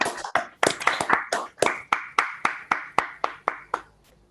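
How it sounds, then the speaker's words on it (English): Clapping from an online audience over unmuted microphones after a mathematics talk, a handful of distinct sharp claps in an irregular sequence, close and fairly loud, with no talk over them. "let's give a round of applause to Stefan by unmuting and just clapping"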